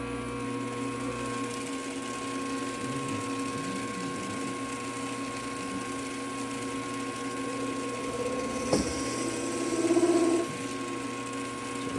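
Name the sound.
Mechanica Cortini lathe facing at 1000 RPM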